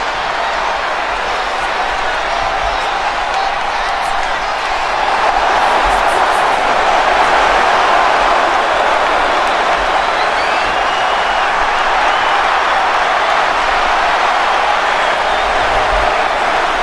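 Steady roar of an arena crowd in a WWE 2K25 wrestling game WrestleMania moment with The Rock and John Cena face to face, a continuous loud wash of cheering and applause that swells slightly midway and holds.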